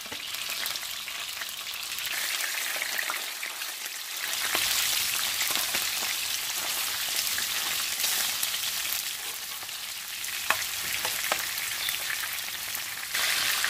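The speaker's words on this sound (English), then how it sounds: "So now we are frying our beef." Beef fries in a hot pan with oil, a loud, continuous crackling sizzle that carries on without a break, no talking over it.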